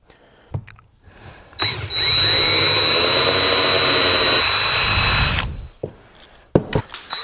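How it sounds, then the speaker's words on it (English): A power drill whirs steadily for about three and a half seconds, loud and close, with a bright whine over a grinding rumble, then spins down, drilling a hole with a 5/8-inch bit. "So we gotta drill a hole big enough just for the threads to fit"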